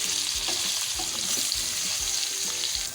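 Slices of tinda (apple gourd) fry in a pan over medium-high flame, giving a steady, dense sizzle with occasional soft stirring clicks, close and continuous with no talk.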